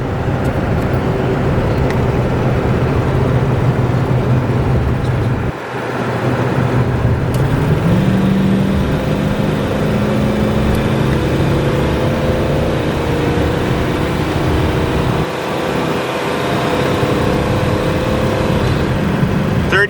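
Steady engine drone and road roar inside a classic car with a three-speed Turbo 400 automatic cruising at 60 mph around 2,000 RPM, loud and continuous with a slight pitch rise midway.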